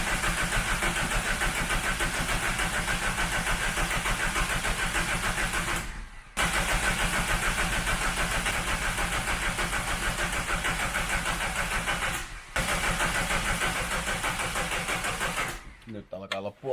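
VW Caddy engine cranking repeatedly, a loud, rapid rhythmic churn held for about six seconds, then again for six, then a shorter weakening try, with brief pauses between, close up and without catching to a steady run.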